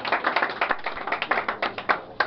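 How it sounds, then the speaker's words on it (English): Brisk applause from an event audience, a steady patter of many hands clapping at close range that holds throughout without voices on top. "Thank you for that spirited applause."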